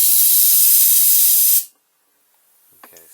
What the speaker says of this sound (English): You can use a can pressurized air like duster or an air